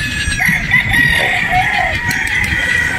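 A Boston Roundhead stag rooster crows, a drawn-out nearby call sounding over constant farmyard background noise from other birds.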